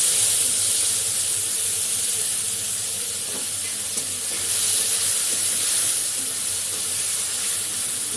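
Chopped tomato sizzles in hot oil in a pan as a vegetarian curry is cooked, giving a steady, loud hiss and crackle throughout, with faint stirring and no voices.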